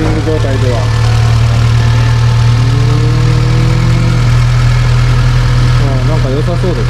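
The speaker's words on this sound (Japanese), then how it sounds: "ブレもないですね。 アイドリング状態では。" A high-mileage Honda Civic Type R EK9 engine idles loudly and evenly at close range with no wavering, while people talk over it.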